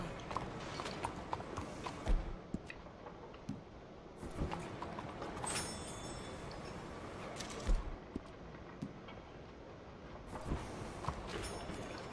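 A horse's hooves clip-clop in the video game Red Dead Redemption 2, a soft, fairly faint rhythmic trot with a few louder thuds scattered across the span.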